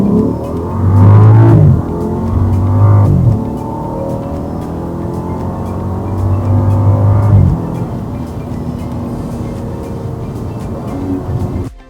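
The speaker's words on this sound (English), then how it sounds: "Now let's go ahead and turn on the car." BMW F10 535i with a Dinan exhaust starting up nearby, a loud deep engine burst and revs settling into a steady rumbling idle, with a second rise partway through.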